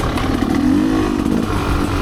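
A Gas Gas EC300 two-stroke trail bike is ridden on a Michigan trail loop, its engine close and loud with a buzzy, rasping tone that rises and dips briefly as the throttle changes.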